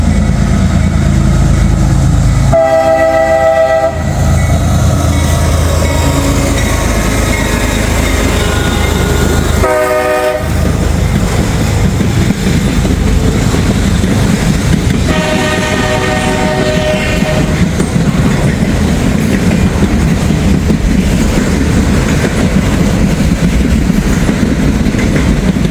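Train pulled by two heritage locomotives crossing over from track 1 to track 2, loud and close, with a continuous rumble and wheel clatter broken by three blasts of a harmonic horn, no talk.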